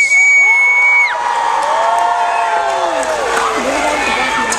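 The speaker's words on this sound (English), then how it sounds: "raise a cheer for these two young squires" A crowd at a medieval-style tournament cheers and whoops for two young squires, loud and sustained, with children's shouts and high calls rising and falling throughout.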